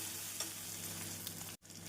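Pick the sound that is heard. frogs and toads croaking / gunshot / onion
onion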